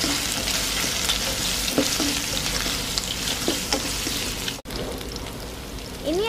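Chopped large onions fry in a pan for a chow chow dish, giving a continuous crackling sizzle with scattered spatula scrapes and a brief dropout near the end, all close and with no voices.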